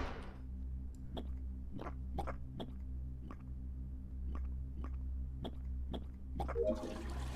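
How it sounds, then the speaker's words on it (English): Toilet flushing in the Among Us Airship task, a video game sound effect: a gurgling watery rush at the end, preceded by a steady low hum and repeated short clicking taps. "Oh, you flush it like that."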